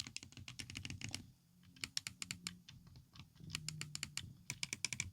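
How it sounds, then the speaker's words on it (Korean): Shoulder buttons on a Powkiddy V90S retro handheld console click in quick clustered bursts, crisp near tapping clicks with short pauses between runs, no talk over them. "L2, R2는 예, 똑깍똑깍 그리는 느낌 이렇게 만들어 놨습니다"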